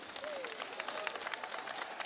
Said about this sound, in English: please, round of applause for our papa